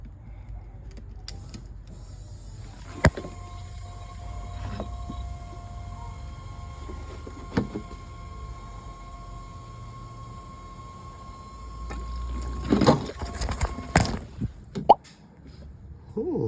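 A BMW E30's electric fuel pump runs with its relay jumped, giving a faint, steady whine throughout, with a few sharp clicks and a short burst of clattering handling noise near the end.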